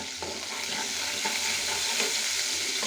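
Chicken korma with onion paste and sour yogurt sizzles in a pan, a steady close frying hiss broken by soft stirring scrapes, with no talking.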